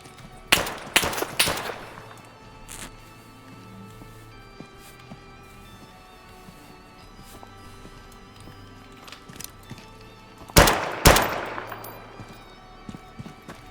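Enemy gunfire in Deadside comes as two sharp clusters of close shots, several quick cracks at the start and another burst near the end, with quiet stretches between.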